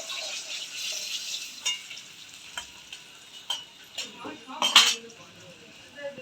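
Katla fish frying in a pan over a gas or wood fire, a continuous hissing sizzle with occasional utensil clinks and a louder burst of spatter near the end, a voice speaking briefly underneath.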